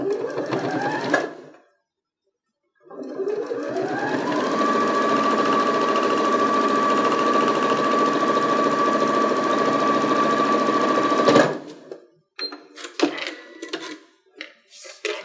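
A sewing machine stitches straight across a fabric face mask seam, ramping up after a short start and holding a loud, steady, close hum for several seconds before stopping, followed by light handling and movement noises.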